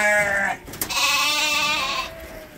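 Goats in a herd bleat loudly and close, two long wavering calls with a brief knock between them, heard alone without talk.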